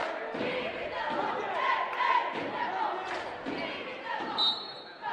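A boys' high school basketball crowd at North Side boos and shouts in displeasure at a traveling call, a swelling mass of voices in a gym that rises and falls over several seconds.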